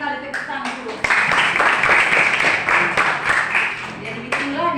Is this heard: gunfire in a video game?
no